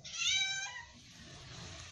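A house cat lets out one close, clear meow that fades into a soft drawn-out tail, over quiet room noise with no talk.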